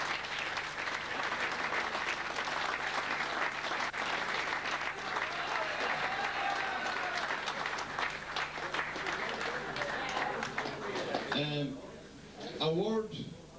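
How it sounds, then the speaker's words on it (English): Sustained applause fills a hall after a Gaelic football minor final between Na Piarsaigh Óga and Cavan Gaels, many hands clapping loudly and evenly for over ten seconds before fading as a voice comes in near the end. "I'd like to give a round of applause for John Fee."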